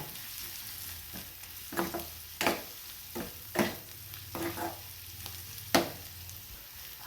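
Onion frying with turmeric powder in a pan hisses in a low, steady sizzle, broken by several sharp scraping stirs of a spatula at irregular intervals, close and moderately quiet.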